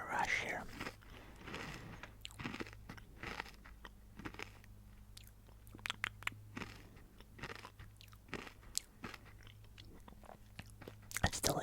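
Close, quiet bites and crisp crunching of kohakutou crystal candy, a sugary Japanese jelly confection, followed by repeated chewing, with soft whispery breaths between the crunches.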